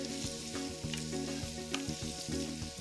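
Onions and celery soften in a hot pan for a Greek bean dish, giving a steady, close sizzle with a few faint scrapes of stirring.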